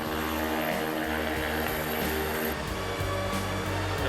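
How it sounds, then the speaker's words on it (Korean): Tiltrotor smart unmanned aerial vehicle, able to take off vertically like a helicopter, flies with tilted rotors, giving a steady, loud propeller drone with a throbbing pulse and no speech. "이륙을 한 스마트 무인 항공기는 회전 날개가 다시 앞으로 기울어지면서 속력이 빨라져"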